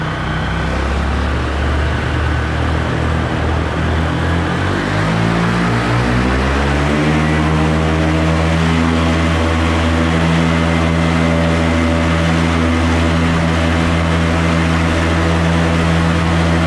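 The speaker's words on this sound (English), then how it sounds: "Mini Plane Top 80 with a 125 wood prop." A Mini Plane Top 80 model airplane engine turning a 12x5 wooden propeller, running steadily loud and close, then its pitch climbs and settles into a sustained high drone as the engine revs up on a thrust test.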